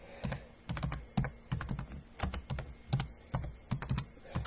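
Rapid, uneven keystrokes on a computer keyboard while HTML code is typed, a close run of sharp clicks in short bursts with brief pauses and no talk.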